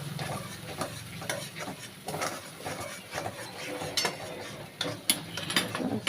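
Milk being stirred into prawn malai curry in a pan, with quiet repeated scraping and clinking of a utensil against the pan over a faint bubbling simmer.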